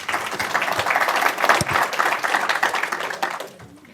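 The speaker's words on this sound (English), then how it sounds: "Everyone, give it a round of applause." A conference audience claps briefly to welcome a web security talk, dense applause holding steady for a few seconds before fading out at the end.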